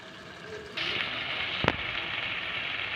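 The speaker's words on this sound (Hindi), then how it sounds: "तो अभी भून के आपको दिखाती हूँ मैं।" Gravy with oil fries in a pan as it is being cooked down, a steady close sizzle that suddenly grows louder, with a brief sharp crackle partway through.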